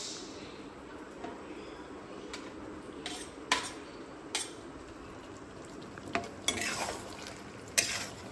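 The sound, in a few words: cauliflower added to a pan and stir-fried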